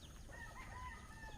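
Hens and a rooster on a rural Philippine farm cluck and crow faintly at a distance, with a steady bed of outdoor background noise.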